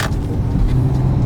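A Toyota JZX100 Chaser with a four-speed gearbox accelerates in first gear, a loud, close engine rumble that holds steady over a brief moment.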